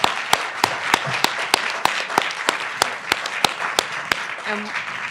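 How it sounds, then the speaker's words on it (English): Applause for a panel at a free-speech and local news event, scattered sharp individual claps over a softer bed of clapping, moderately close, with some murmuring underneath. "Let's give them a warm round of applause."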